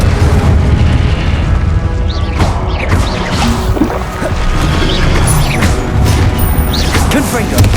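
Confringo blasting spell explosions in the Hogwarts Legacy video game, a dense, loud barrage of booms and crashes running continuously, with voices mixed into the din.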